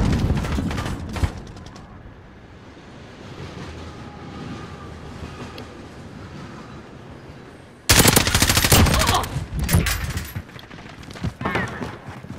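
Rapid automatic gunfire in a Modern Warfare free-for-all multiplayer match, a long dense stretch of bursts followed by a sudden louder, sharper volley near the end.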